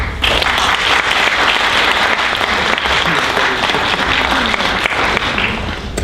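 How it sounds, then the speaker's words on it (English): An audience at a business conference applauds loudly and continuously, dense clapping from a crowd that tapers slightly at the end. "Please applaud Mihal Kambarev."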